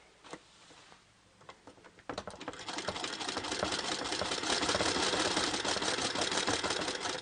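A sewing machine without reverse stitches a Victorian handbag, starting with a few quiet clicks before settling into a steady, fast mechanical clatter that runs loud and close to the end.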